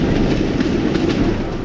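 A fast-running train in an animated ghost story: a loud, continuous rail rumble with rapid clickety-clack from the wheels, alone, with no voices.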